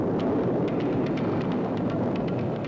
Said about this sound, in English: Rocket engines, ignited.